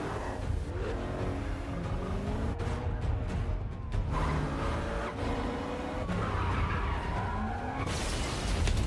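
A car speeds away in a film chase scene, tires skidding and squealing repeatedly over a loud, continuous engine roar with accelerating revs throughout.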